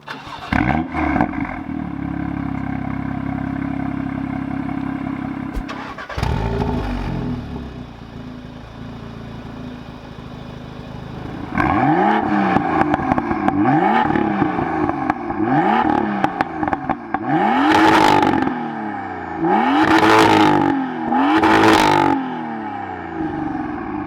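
A hot hatch car engine, a Golf R or BMW M2, cranks and fires up, idles briefly, then revs hard several times in rising and falling bursts, loud and close.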